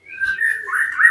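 A white-rumped shama (murai batu), recently finished molting and short on nutrition, sings a brief, thin whistled phrase, close and clear but subdued, alone with no talk.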